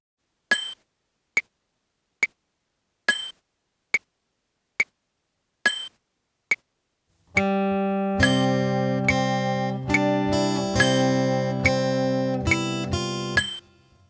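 Fingerstyle guitar playing Away in a Manger at 70 beats per minute: seven evenly spaced metronome clicks count in, then a 2-bar introduction leads into ringing, plucked notes and chords, close and clear with no talking.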